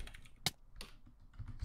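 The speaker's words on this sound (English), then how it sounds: "Stop clicking buttons." Keyboard buttons clicked during a Hypixel Skywars match, a few faint, sharp clicks spaced irregularly over quiet background noise.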